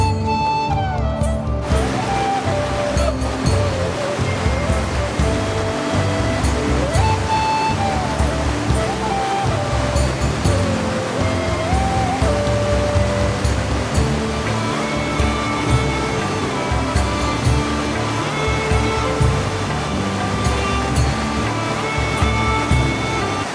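Loud, constant rush of the Yamuna river near a temple, a dense steady roar of flowing water close by, with faint tonal sounds and some background voices blended in underneath.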